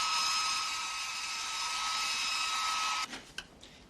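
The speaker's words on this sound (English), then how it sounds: "Can I borrow your hairdryer?" A hair dryer runs in a steady, loud whir for about three seconds, then cuts off, leaving a few short knocks and rustles.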